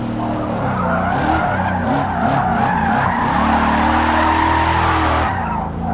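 A car drifting in Forza Motorsport: its engine roars steadily while the tires skid and squeal in a long, continuous slide, loud and close.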